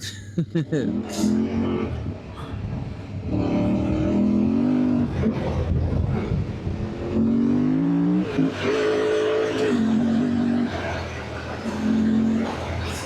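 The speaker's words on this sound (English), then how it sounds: "Bike sounds so good when it's on song" A Yamaha Tenere motorcycle engine revs and climbs through the gears with rising and falling pitch, loud and close, with a voice talking over it at times, on a road in Portugal.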